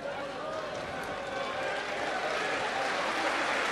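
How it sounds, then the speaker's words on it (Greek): Crowd noise from the stands at a women's AEK versus Galatasaray match, a broad, steady wash of clapping and cheering that fills the whole stadium and stays loud throughout. "Χειροκροτήματα"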